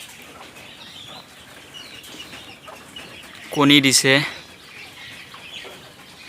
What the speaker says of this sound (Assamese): Japanese coil bird